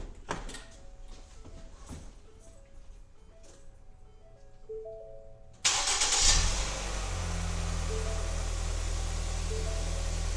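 A car engine cranks and starts after an oil change, jumping from quiet background to a loud, steady close idle that settles and keeps running; light clanks and handling noises come before it.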